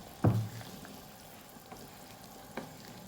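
Rawon stirred in a cooking pot, one clear scrape of the utensil followed by faint quieter stirring knocks over a low background of simmering.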